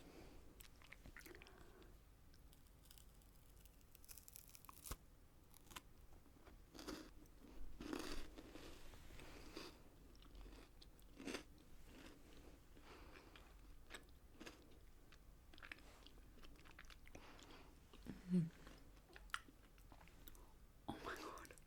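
Someone bites into an Oreo cookie and chews up close, with soft, irregular crunches and a few sharper bites scattered through a quiet, intimate setting.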